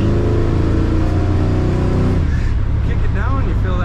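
A 1961 Chevrolet Bel Air two-door sedan's engine roars loudly and steadily on kickdown acceleration, heard from inside the car, then the tone shifts and eases off as the revs change.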